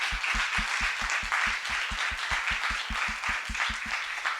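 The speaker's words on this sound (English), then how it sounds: "let's not forget to give a huge round of applause to all the 14" An audience at a SEDTalks event gives sustained applause for the 14 engineers who presented, a dense, steady clapping that runs over a regular thumping music beat.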